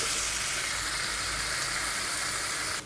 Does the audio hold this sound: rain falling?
no